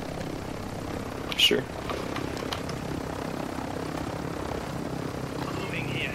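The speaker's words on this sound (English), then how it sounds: "I have whatever this plane thing is. That looks like a B-11." A plane engine in Call of Duty Warzone 2.0 drones steadily at moderate level while players talk over it, with a brief louder burst early on.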